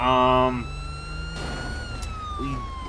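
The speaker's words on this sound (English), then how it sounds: "let me turn my sirens off" A video game police car siren in GTA 5 wails briefly then cuts out, leaving a steady electronic whine and engine hum with a voice speaking over it.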